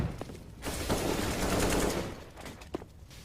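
Gunfire from a weapon in a shooter game such as PUBG or CS:GO, a sustained rattling burst that swells and fades, followed by a single sharp shot near the end, with no talk.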